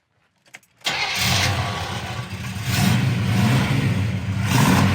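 A big-block V8 engine in a 1972 Chevrolet Monte Carlo cranks briefly after near silence, then catches and rumbles into a loud, deep idle that swells slightly as it revs.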